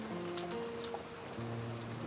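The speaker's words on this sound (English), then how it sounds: "The inside of the room was commanded by the stillness of the sound of the rain." Rain falling in a scene from the Umineko When They Cry visual novel, a soft steady hiss of drops under faint background music tones, brief and quiet.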